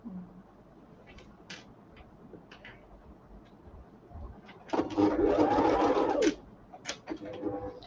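A sewing machine stitching fabric for a chin lining runs in one steady burst of about a second and a half, close and fairly loud, with scattered handling clicks and rustles before and after it.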